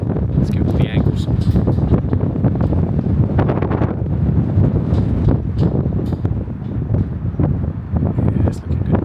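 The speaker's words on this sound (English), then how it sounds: "Oh, it's windy." Strong gusting wind buffets the microphone high on a 40th-floor viewpoint in Warsaw, a constant loud roar with rumbling low buffeting, while a person talks over it.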